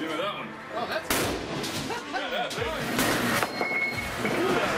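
A tank fires its main gun, one sharp, loud blast followed by a rumbling decay, with people talking and exclaiming over it throughout.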